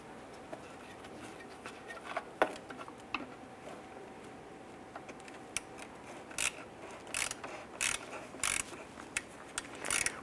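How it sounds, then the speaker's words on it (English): T20 Torx bit loosening and removing rusted fog light screws on a 2005-2010 Chrysler 300 front bumper, giving faint scattered ratcheting clicks and ticks that grow denser toward the end, alone over quiet background noise. "Now I'm using a T20 Torx bit to go ahead and loosen and remove the two screws for our fog light."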